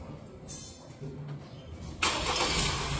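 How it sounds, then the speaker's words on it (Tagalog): A car engine starting remotely by a key fob feature while the doors stay locked, heard from nearby at low level: faint clicks and quiet rumble, then a sudden burst as the engine catches and settles into a steady idle. "narinig nyo naman siguro, nag-start yung ating makina"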